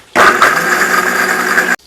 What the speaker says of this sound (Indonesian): Urung ditutup kok wis blender sakarepe dhewe.